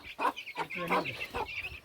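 Chickens and chicks cluck in a busy, overlapping chatter nearby while eating termites, with soft murmuring calls rising and falling.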